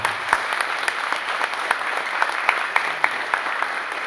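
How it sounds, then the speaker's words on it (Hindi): An audience at a direct selling training talk gives steady, energetic applause, a dense even patter of many hands clapping continuously for several seconds with no speech. "जोरदार ताली।"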